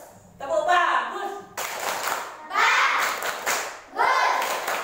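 Elementary school children in a classroom chant a rhythmic "tepuk bagus" routine, voices rising in short bursts, each punctuated by a sharp, unison clap.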